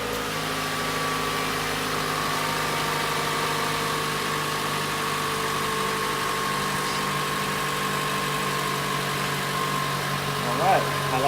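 The four-cylinder engine of a 2014 Toyota Camry idles steadily just after new spark plugs went in, a smooth, even hum at close range, with a brief rattle near the end and a voice over it.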